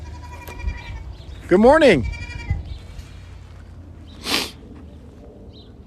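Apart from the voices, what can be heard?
goats bleating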